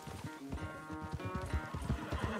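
A horse gallops in Red Dead Redemption 2, rapid rhythmic hoofbeats pounding close by alongside snorting and a whinny, with no talk.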